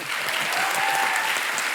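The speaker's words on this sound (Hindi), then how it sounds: "जोरदार तालियां" Loud, sustained studio audience applause on a Hindi television comedy show, dense and even, with faint musical tones underneath.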